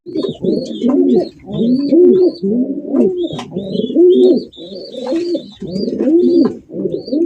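Pigeons coo close up in a loud, continuous run of throaty, rolling calls that repeat one after another.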